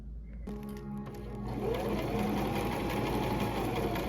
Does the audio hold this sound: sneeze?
no